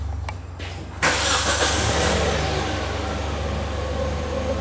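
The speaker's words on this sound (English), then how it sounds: "Bear, can you start this car up for us?" A car engine cranks and catches about a second in, then settles into a loud, steady idle with no talking.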